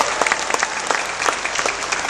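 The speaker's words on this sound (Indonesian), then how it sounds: "tepuk tangan untuk mereka." Crowd clapping at a campaign rally for the Jakarta gubernatorial candidates Anies Baswedan and Sandiaga Uno, a dense steady wash of applause with sharper individual claps popping out, with no voices over it.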